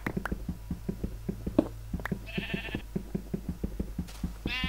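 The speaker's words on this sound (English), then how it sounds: "what is the lonely sheep doing in this mine?" Minecraft sheep bleating inside a mine, several short nasal bleats over a steady low game hum and repeated soft thumping, with a brief sparkly chime midway and another near the end.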